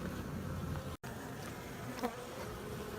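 Dense, steady buzzing of many honeybees close by at a tiny hive during a live removal in Houston, Texas, a constant low hum with occasional louder passes of individual bees.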